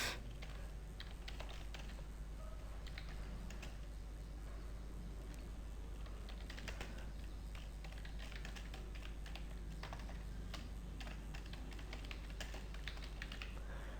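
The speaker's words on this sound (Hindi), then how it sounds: "तो हमने ये टाइप कर दिया है" Fingers type on a computer keyboard in quick, uneven clusters of soft clicks, faint and close, over a low steady hum.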